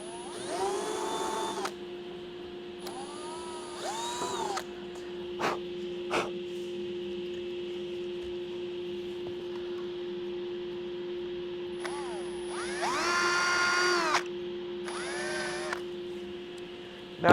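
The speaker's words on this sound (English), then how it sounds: "I want to make more depth for the fill to grab, so I'm going to grab a drill bit" Power drill driving a bit into plywood for an epoxy repair, running in several loud whirring bursts of one to two seconds separated by pauses, with a steady background hum throughout.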